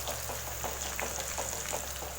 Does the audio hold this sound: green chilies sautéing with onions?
yes